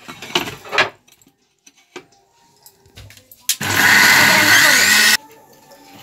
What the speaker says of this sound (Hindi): इसको ग्राइंडर कर लेते हैं।